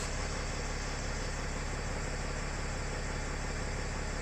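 A Mercedes R320 of the W251 generation idles just after starting, a faint, steady low hum and broadband engine noise that holds even throughout with no voices.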